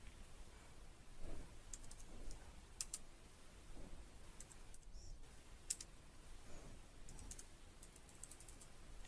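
Computer keyboard typing as grades are entered into an Excel spreadsheet, quiet scattered clusters of key clicks in irregular bursts with brief pauses, close and soft, no talking.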